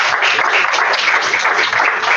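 A book-signing audience claps loudly and steadily, a dense continuous patter of many hands held from start to finish.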